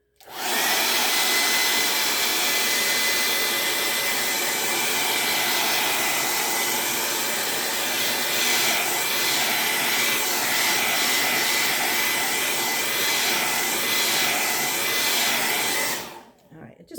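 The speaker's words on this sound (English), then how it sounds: "So I'm just going to take a blow dryer to it for just a second." Handheld blow dryer aimed at freshly printed ink on a t-shirt, a loud, steady close-up whoosh of fan and rushing air running unbroken for about sixteen seconds before cutting off, with no voices.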